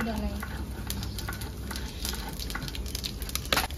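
Whole cumin seeds and chilli sizzle in hot mustard oil for a village-style aloo posto, a continuous crackling fry with sharp pops and spatters, close and fairly loud.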